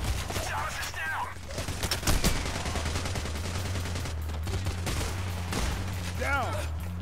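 Rapid gunfire from the heist video game Payday The Heist, dense overlapping bursts of shots through the whole stretch, loud and close, with voices talking over the shooting.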